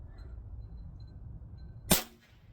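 A single sharp shot from a Crosman 3622 PCP .22 air rifle fired at a target, one loud crisp crack standing out after quiet low background rumble, followed by a brief fading tail.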